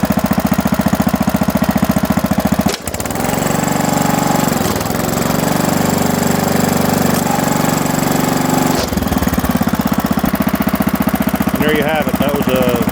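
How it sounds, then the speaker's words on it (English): A lickity log splitter's engine revs up loudly and runs steadily nearby as its arm auto shifter cycles, with a brief drop in the engine note partway through and the rough mechanical roar continuing to the end. "I'm going to rev up"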